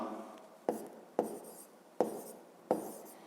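Pen writing a math expression by hand on paper, four distinct tapping strokes with short scratchy trails, close and quiet.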